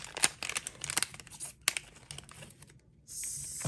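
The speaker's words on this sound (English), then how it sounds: "Normally I don't need scissors to open these." Scissors snip and tear through plastic nail polish strip packaging in quick, uneven cuts close by, ending in a steady crinkly hiss.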